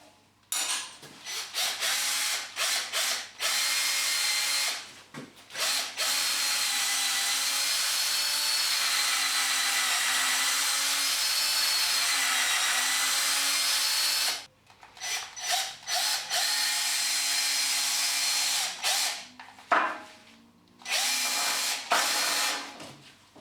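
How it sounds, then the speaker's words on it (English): A power drill pre-drills a screw hole at an angle into timber for a garden gate, whining loudly in several long runs broken by brief pauses and short bursts. "I'm actually going to pre-drill the timber"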